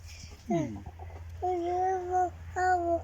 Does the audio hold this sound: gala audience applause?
no